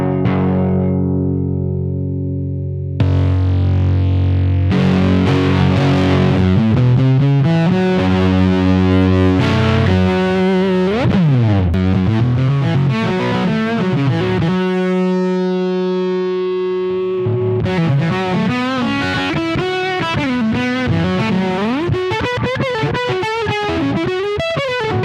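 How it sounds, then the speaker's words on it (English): Electric guitar played through an Echo Dream 2 delay pedal with its fuzz knob engaged, giving sustained distorted chords and notes with repeating echoes, loud and continuous, swelling and bending throughout with a short drop to near silence partway. "This sets the amount of gain basically from very clean to extreme fuzzed out funness."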